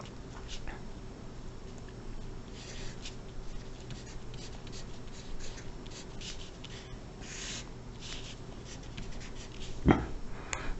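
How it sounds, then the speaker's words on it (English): Pen or marker writing out a decimal division problem, a faint scratchy stroke sound running steadily under a quiet room hum, with a brief louder tap near the end. "let's write it that way."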